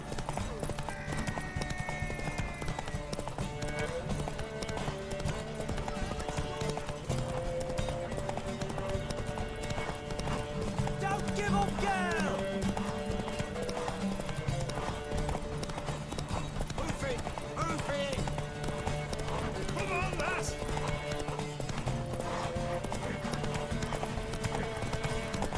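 Horse hooves clip-clop steadily through a race in The Witcher 3, a continuous rhythmic trot under game music and spoken dialogue.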